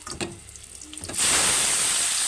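Taro leaves dropped into a hot pan with chili and cumin, a quiet stirring clatter that suddenly bursts into a loud, steady, close hiss of sizzling.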